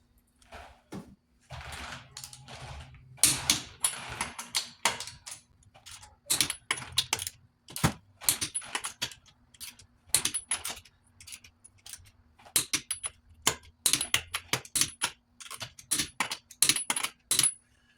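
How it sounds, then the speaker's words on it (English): A torque wrench with a 21mm socket tightens the wheel lug nuts on a 2002-2006 Nissan, making bursts of quick ratcheting clicks with short pauses between them, close and fairly quiet. "grab your torque wrench and your 21mm socket"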